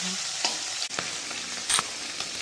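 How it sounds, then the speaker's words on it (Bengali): Kakrol, spiny gourd, frying in a pan, a close steady sizzle with a few sharp spatters and stirring clicks, no talking. "এখানে কাঁকরোল ভাজা হচ্ছে"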